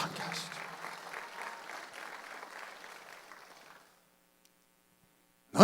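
Congregation applauding together during a Korean church Sunday worship service, a steady crowd clapping sound that holds for several seconds and then stops abruptly, followed by near silence.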